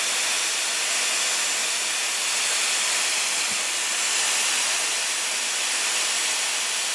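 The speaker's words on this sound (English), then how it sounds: "Now turn on the cool shot." A Dyson Airwrap hair styler blows on its cool shot setting, producing a constant, loud airy hiss that continues unbroken throughout, with one faint tap partway through.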